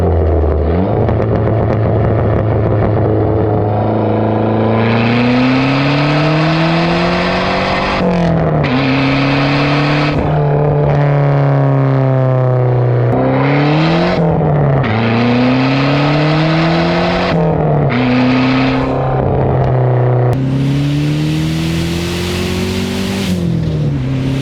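A Dodge Neon SRT4 four-cylinder engine revs loudly and close by, climbing and dropping through repeated throttle blips and pulls for over twenty seconds, its pitch rising with each rev before falling back.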